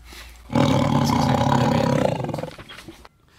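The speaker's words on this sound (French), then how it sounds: "Transition de bruit de tigre qui rugit." A tiger's roar used as a transition effect bursts in loud and close, holds as a deep sustained growl, then tapers off and cuts to near silence.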